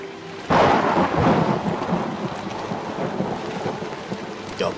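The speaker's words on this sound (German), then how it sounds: "Es ist kalt draußen und es regnet." A sudden loud thunderclap rolls into a steady downpour of heavy rain in the game Outlast, rumbling and hissing continuously with no voices.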